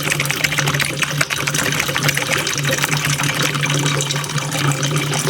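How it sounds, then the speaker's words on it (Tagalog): Water runs into a pot for cooking pasta for mac and cheese, a steady splashing pour with a low hum underneath, close and continuous. "Sunod na gagawin, lalagyan ng konting tubig or sakto lang."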